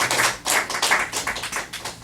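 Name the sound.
applause in church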